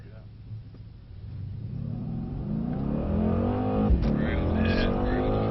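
A Mercedes C63 pulls away from a normal takeoff, its engine rumbling louder as it climbs steadily through the revs over several seconds, close and building, with people speaking over it.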